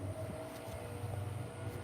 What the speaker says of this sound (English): There's a plane going by the moon.